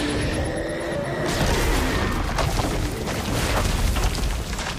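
A loud, rumbling explosion in the Batman: Arkham Origins video game, with a sustained broadband roar and crackling debris that persists for several seconds.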